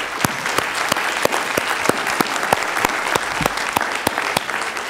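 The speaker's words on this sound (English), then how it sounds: "we do want to give a big round of applause to Helen Malone and Shayna and Jen" Audience at a policy lecture giving organizers a round of applause, with loud, continuous clapping from a large room and no talk over it.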